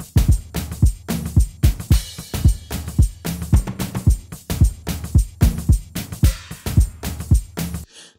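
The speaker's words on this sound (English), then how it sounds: "So the rest of the beat sounds like this." Produced drum beat for an Afrobeats song, a steady looping groove of punchy kicks, toms and crisp hi-hats and percussion hits, loud and up front with no voices, cutting off abruptly at the end.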